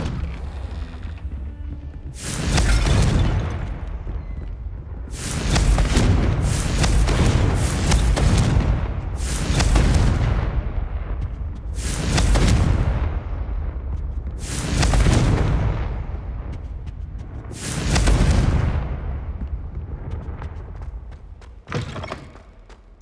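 Confringo spell explosions in the Hogwarts Legacy video game, a string of about seven loud, booming blasts spaced a few seconds apart, each followed by a rumbling decay.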